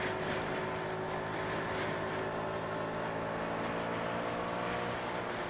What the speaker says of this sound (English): 30-mile-an-hour twisty on a 50cc scooter